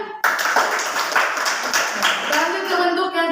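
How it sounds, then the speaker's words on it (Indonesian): Students clap together in a classroom, a short burst of brisk, uneven hand claps that fades out after a few seconds. "Tepuk tangan dulu kan?"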